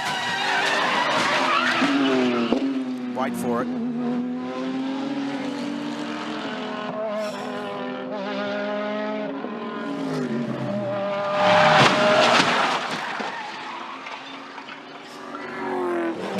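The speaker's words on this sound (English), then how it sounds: "That's what 200 Ks into a stopped car sounds like." A GT3 race car at the Bathurst circuit runs at about 200 km/h into a stopped car. A high engine whine and tire squeal build to a loud, harsh impact burst near the end, with brief speech from a commentator.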